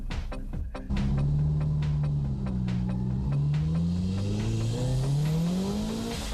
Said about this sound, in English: Now the S15 should be outputting 380 plus horsepower. The acceleration is unbelievable.